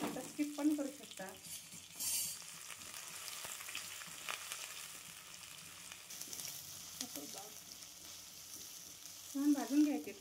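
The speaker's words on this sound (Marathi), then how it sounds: "छान भाजून घ्यायचे कांदे। छान परतून घ्यायचे लालसर।" Onions with chillies, garlic and cumin fry in a pan, giving a quiet continuous sizzle with occasional stirring scrapes and a brief clatter, while a voice speaks faintly now and then.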